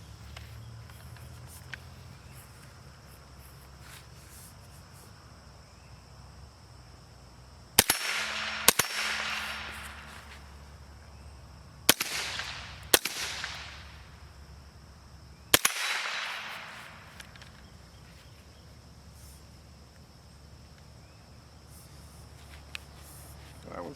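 A CMMG AR15 .22LR conversion fires on a backyard range: five sharp, loud cracks in two loose clusters, each with a short ringing tail, over quiet outdoor ambience.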